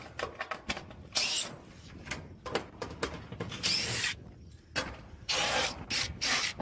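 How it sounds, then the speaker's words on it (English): Screws being backed out of a roof panel with a power driver, bursts of whirring and grinding scrape alternating with short pauses and rustling handling noise, close up and moderately loud. "So, start taking out screws."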